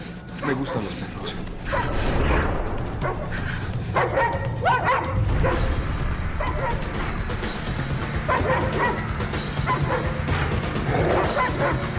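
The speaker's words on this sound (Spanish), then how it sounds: "Dispárale al perro, dispárale al perro." Dog barking and yipping in a 2007 Spanish-language action film, repeated excited barks and whimpers over tense background sounds with people talking.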